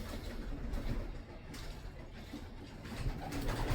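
A young racing pigeon makes low, soft cooing and fluttering sounds up close, a faint murmuring coo under steady background noise.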